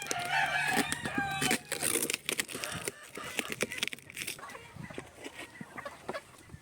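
A rooster crows loudly nearby, followed by steady clucking from several gamefowl chickens being let out of a box, with scattered rustling and knocks.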